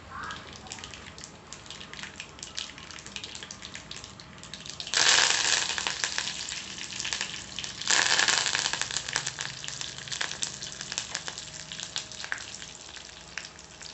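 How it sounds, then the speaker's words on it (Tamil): Dried red chillies and curry leaves tempering in hot oil for radish sambar: a continuous crackling sizzle that flares loudly twice as ingredients go in, then settles back to a steady fry, with no voices. "காஞ்ச மிளகாய் போடுறேன். கறிவேப்பிலை போட்டு தாளித்து எடுத்துடலாம்."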